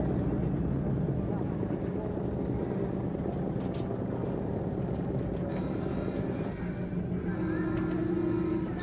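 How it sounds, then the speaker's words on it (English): Droning motors of round-the-world racing yachts motoring out of harbour under engine toward the starting line, a continuous steady hum with a narrator talking over it. "one by one the yachts cast off, using their engines to leave harbour for the starting line"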